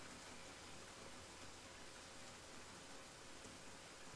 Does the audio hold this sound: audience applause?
no